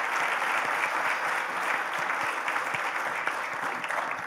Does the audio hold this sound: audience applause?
yes